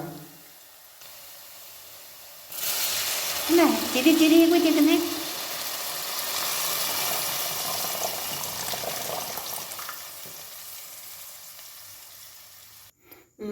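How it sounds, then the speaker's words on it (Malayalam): Water from a grated coconut squeezed into a hot pan of chicken curry: a sharp hiss and sizzle rises as it hits, then settles into a steady bubbling simmer, with a few words spoken early on. "തൊറപ്പിൽ വരുന്ന വെള്ളം മാത്രമേ ഒഴിച്ചുകൂടൂ. ഞാൻ ഒഴിക്കാം ഇപ്പോൾ."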